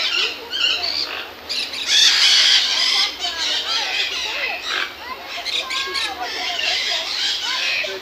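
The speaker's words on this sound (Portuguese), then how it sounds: "Agora vocês veem os papagaios e tal, tem tucano aqui também." Parrots and toucans in a municipal park, a dense mix of loud, overlapping squawks and shrill calls going on continuously, close and busy throughout.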